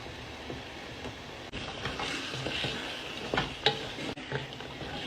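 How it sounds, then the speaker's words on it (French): Meat and tomato sauce being stirred in a pot for spaghetti, giving a steady low sizzle with soft scraping and a few clinks of utensil against the pot, fairly close and continuous, with no talking. "Je mélange encore un peu."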